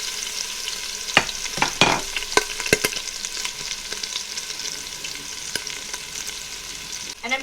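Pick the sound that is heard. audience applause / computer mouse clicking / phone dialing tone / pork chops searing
pork chops searing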